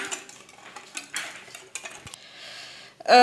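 A spoon stirring a semolina mixture in a bowl, a run of close, irregular scraping and clinking strokes, ending with a louder clatter.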